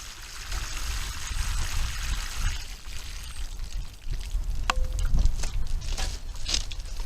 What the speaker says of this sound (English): let's give them a good water.